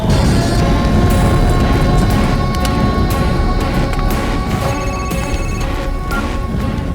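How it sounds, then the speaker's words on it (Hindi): A phone rings during a scene in a Hindi-dubbed action film, its tone sitting under a loud, dense wall of background noise and score. "भाई भाभी का फोन है"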